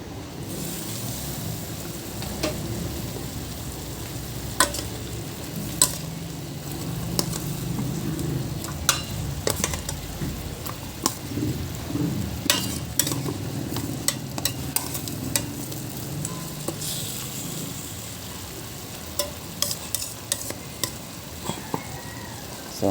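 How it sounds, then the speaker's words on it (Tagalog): Pork adobo simmering in a covered pot gives a steady bubbling, sizzling wash with scattered sharp clicks and pops, fairly close and continuous with no voices. "Siyempre takpan muna natin para kumulo."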